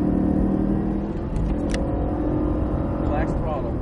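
A Cadillac on a racetrack accelerates with a loud, steady engine roar under continuous close talking, with a few brief squeaks and chirps over the drone.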